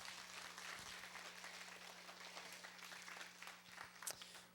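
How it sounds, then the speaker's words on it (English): An audience applauds a fifth-grade school concert and its percussion helper, the steady clapping filling the room at moderate level with a low electrical hum beneath. "So let's give them a round of applause"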